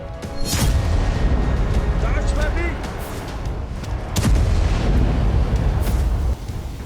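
A loud explosion booms, followed a few seconds later by a second heavy blast, with rumbling noise continuing in between.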